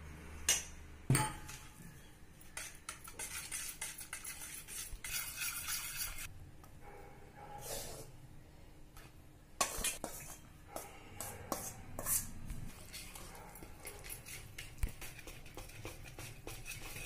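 Cake batter of milk, powdered sugar and oil is worked in a bowl for an eggless tutti-frutti sponge cake, with repeated scraping and clinking of a utensil against the bowl, fairly quiet with irregular knocks.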